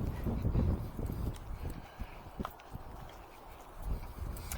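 Farouk, a horse, walks at a relaxed pace with his head down, his hoofbeats a soft, irregular clopping on the ground under steady outdoor noise.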